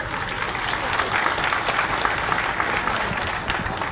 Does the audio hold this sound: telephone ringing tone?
no